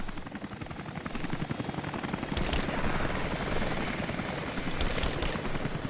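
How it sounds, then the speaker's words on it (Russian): A helicopter in the video game Rise of the Tomb Raider flies overhead with a loud, continuous rapid rotor chop that swells slightly, over a noisy game soundscape. "Опять вертолетик летает."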